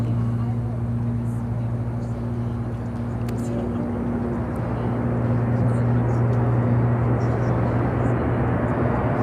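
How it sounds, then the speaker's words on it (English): A Turkish Airlines Boeing 787 Dreamliner takes off at Chicago O'Hare, its broad jet roar holding steady and swelling slightly over nine seconds above a constant low hum. "Next takeoff will be that Turkish Airlines Dreamliner."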